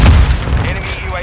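A grenade explodes in Call of Duty: Modern Warfare 2 as a loud, close, rumbling boom that fades over about a second, overlapped by game voices and effects.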